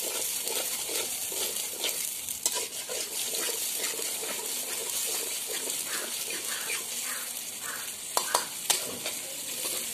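Masala for goat intestine gravy sizzles steadily in a pan while it is stirred and scraped, with a few sharper clinks of the utensil toward the end.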